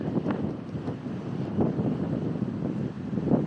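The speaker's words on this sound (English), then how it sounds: "Whew, and it is windy" Steady strong wind buffeting the microphone outdoors in Patagonia, a continuous low rumble with gusts swelling and easing.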